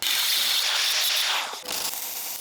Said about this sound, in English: we can clamp it in place by tightening this screw